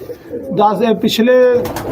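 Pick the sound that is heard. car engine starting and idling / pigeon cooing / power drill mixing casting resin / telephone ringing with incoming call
pigeon cooing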